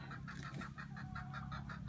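Laying hens cluck in a quick repeating series on a farm, soft and close, over a low background hum.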